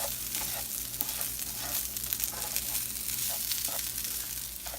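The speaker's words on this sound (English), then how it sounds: "I'm just going to kind of mix them in together." Steady loud sizzling of food frying in a pan, with soft scraping as it is stirred and mixed together throughout, no voices.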